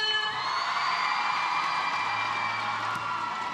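Loud crowd cheering at a SEA Games netball match between Singapore and Malaysia, whoops and shouts, a sustained roar of many voices filling the space.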